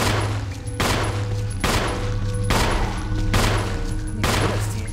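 Pistol shots fired at a zombie in Resident Evil, five loud evenly spaced gunshots about a second apart, each with a sharp crack and ringing decay, over a steady low hum.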